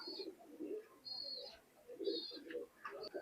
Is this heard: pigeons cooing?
yes